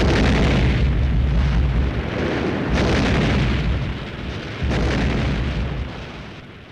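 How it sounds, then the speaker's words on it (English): Huge ammunition dump going up at night during an artillery duel in the Pacific jungle fighting of World War II, a continuous deep roaring blast with rolling booms and fresh bursts every couple of seconds, loud and close, no voices. "One of our ammunition dumps goes up."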